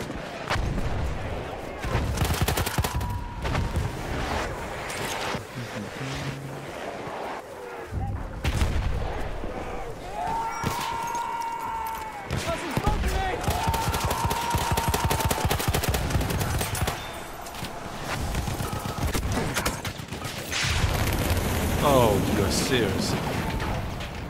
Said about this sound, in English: Trying to heal up and grenades keep landing on me.